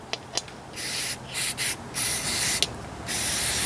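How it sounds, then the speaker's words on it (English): Several hissing bursts of brake cleaner from an aerosol can, sprayed at a blockage on a Jumpin Jack engine; broad airy hiss bursts of varying length, close and fairly loud, with brief clicks between sprays. "I might just hit that with some brake cleaner"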